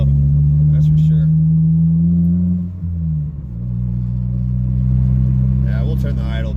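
A boosted Honda EG Civic engine idles up close with a low, steady drone whose pitch dips and wavers around the middle before settling again, the idle audibly bouncing rather than holding flat.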